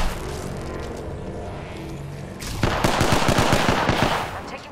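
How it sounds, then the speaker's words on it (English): Gunfire in Apex Legends starts with a quieter rumble, then breaks into a rapid automatic burst of sharp, loud shots that fades near the end. "I'm taking shots."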